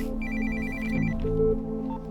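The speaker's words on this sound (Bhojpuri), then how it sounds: "फोन उठाई।" A telephone rings close by with a bright, repeating electronic ringtone pattern, alone and fairly clear, lasting about two seconds before it stops.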